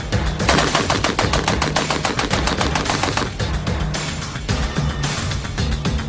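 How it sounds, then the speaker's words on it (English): A Browning Automatic Rifle fires fast bursts at a target, loud sharp reports in quick repeated strings with brief pauses between volleys, no voices. "With the BAR, I can hit the target just fine."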